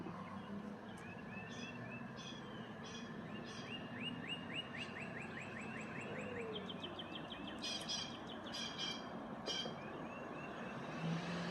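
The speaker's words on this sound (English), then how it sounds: "we got the birds being noisy up there" Birds chirp and tweet in short, quick bursts near a retention pond under construction, against a steady low rumble of traffic or outdoor background noise, faint and somewhat distant.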